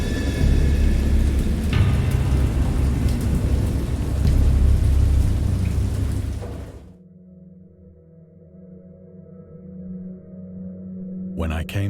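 A thunderstorm with heavy rain roars loudly for several seconds with deep rumbling, then cuts to a quieter low drone before a sharp burst returns at the end.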